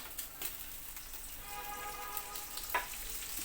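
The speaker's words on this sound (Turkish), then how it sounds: "Şimdi bunun içine soğanlarını alacağım. Şöyle yağ içerisine alıyorum." Onions sizzling in hot oil in a pan for a pea and vegetable stew: a quiet, steady fry with faint crackles and a couple of soft pops, and no voices.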